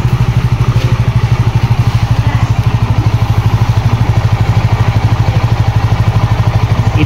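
A Benelli Panarea 125, an Italian motorcycle, idles steadily close by, its engine putting out a fast, even low throb with a faint clatter running through it, heard alone without any talk.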